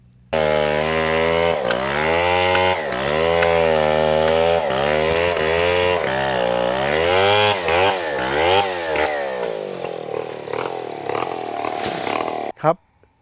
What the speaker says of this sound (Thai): การโค่นปาล์มลงมาสำเร็จแล้วนี่